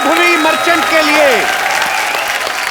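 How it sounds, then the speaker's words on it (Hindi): A studio audience on a Hindi comedy talk show bursts into loud, sustained applause, with a host's excited voice calling out over the clapping. "जोरदार तालियां एक बार वैभवी मर्चेंट के लिए।"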